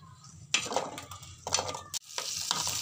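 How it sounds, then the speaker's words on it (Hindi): Okra (bhindi) frying in about three to four tablespoons of oil in a pan crackles and sizzles in bursts, with stirring and metal utensil scrapes between, a brief drop near the end, all close and fairly quiet. "भिंडियों को जो है हम फ्राई कर लेंगे"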